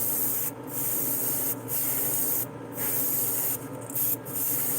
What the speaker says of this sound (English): You're going to have to turn your air pressure back up so you can spray normally now